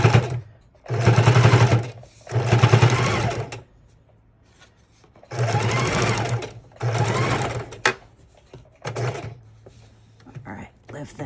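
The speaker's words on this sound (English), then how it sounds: "we've turned our machine on, put the needle down, we're just going to stitch couple, back stitch, bring it straight forward" A sewing machine stitches an envelope onto a junk journal page, running in several loud, steady bursts of a few seconds each with short pauses between them, a quick backstitch followed by a straight forward run.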